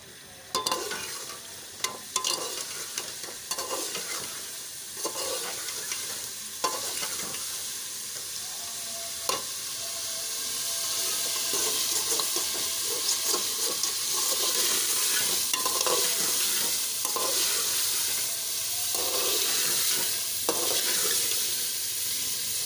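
Potatoes sizzle and fry in a pan for a potato and carrot curry, with steady hissing and repeated spoon scrapes as they are stirred.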